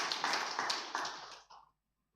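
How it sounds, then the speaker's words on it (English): A short burst of clapping rises from the audience at a Data Privacy Day conference. It is fairly faint and lasts a little over a second before it cuts off into silence. "Can we give them a big round of applause?"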